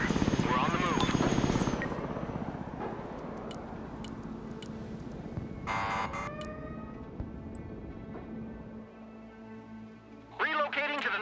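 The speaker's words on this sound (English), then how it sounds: "Osprey, ready. Flying low." Osprey tiltrotor aircraft in a combat video game, a steady low rotor drone running throughout with radio-style voice lines over it and brief game effects, sustained and fairly loud.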